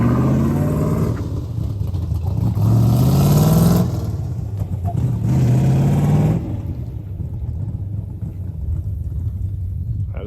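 A Plymouth Barracuda engine revs hard and climbs through its four-speed gears, two loud rising pulls separated by a shift, before easing back to a lower burble.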